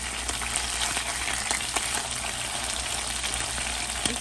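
Rockfish pan-searing in a skillet with a bright, dense sizzle and crackle close up, punctuated by a few sharp spatula scrapes and taps as the fillet is turned.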